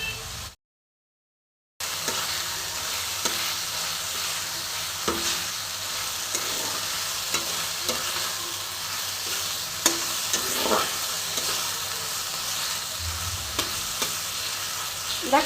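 Spice paste for rohu fish kofta curry sizzles and fries in a pan under a stirring spoon, giving a steady low crackle broken by scraping strokes, after a brief silent gap near the start.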